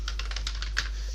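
Rapid, steady clicking of keys on a computer keyboard, typed close up at an even pace with no talking.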